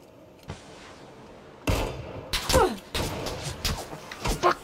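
Gunfire in a first-person shooter game: several sharp, loud shots in an irregular burst, some overlapping, with short echoing tails against steady background game noise.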